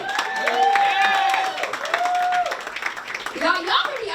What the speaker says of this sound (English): Clap it the fuck up for me